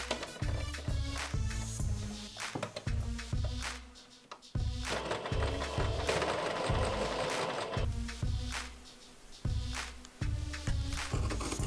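A sewing machine stitching fabric for a cosplay glove, with quick rhythmic bursts of mechanical clatter that pause briefly and resume, fairly quiet and close.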